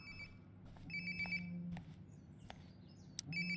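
A phone rings nearby in Life Is Strange: Before the Storm, repeated electronic ringtone chirps in short bursts over a quiet room background.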